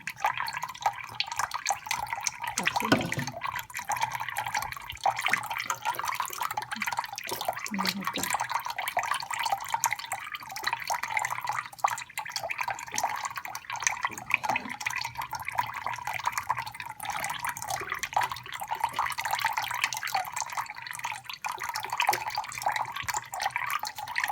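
Water runs and splashes over dried rice noodles being rinsed, a continuous close wash of trickling and dripping with occasional handling sounds, lasting throughout.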